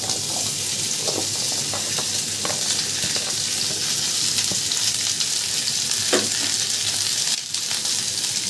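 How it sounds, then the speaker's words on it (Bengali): Dried red chillies and bori frying in hot oil in a pan make a steady, loud sizzle with a continuous hiss and scattered light crackles, close up and without speech. "এই শুকনো লঙ্কার মধ্যে দিয়ে দিলাম। এবার খানিকটা বড়ি ফোড়ন দিলাম।"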